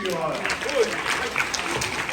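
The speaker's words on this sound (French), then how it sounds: "Eh bien, bravo, on peut l'applaudir." An audience at a children's Christmas show claps for a little girl on stage, a moderate stretch of applause mixed with voices and general crowd noise.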